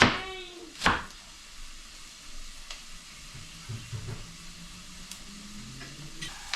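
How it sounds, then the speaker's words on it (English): Snapper fillet sizzles and hisses steadily in a hot pan, with a sharp clatter near the start and a few faint knocks later. "I'm actually frying this."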